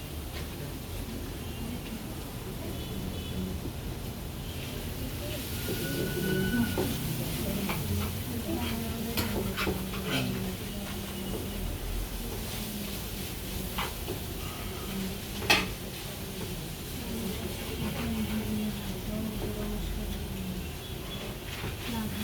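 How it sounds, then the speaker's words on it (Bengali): Chicken lightly frying in oil in a pan, a steady soft sizzle running throughout with occasional faint clicks of a utensil and one sharp tap near the middle. "চিকেনটাকে জাস্ট হালকা একটু ভেজে নেব।"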